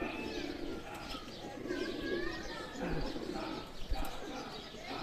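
Pigeons at a Lahore pigeon-keeping gathering coo in soft, repeated low calls, joined by a few chirps, while someone talks over them.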